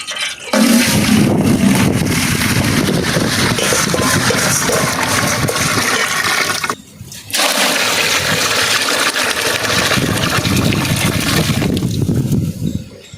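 Lentils being washed in water for sambar rice, with a loud steady rush of running, splashing water that continues for several seconds, breaks off briefly, then resumes just as strongly.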